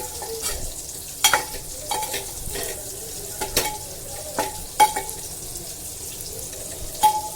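Fish being turned through a spiced masala in a pan, with scattered scraping taps and soft stirring clatter over a faint sizzle, irregular knocks of the spoon against the pan recurring throughout.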